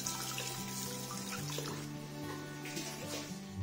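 Blanched pork bones are rinsed under running tap water to clear the surface scum, a steady trickle and splash heard under soft background music.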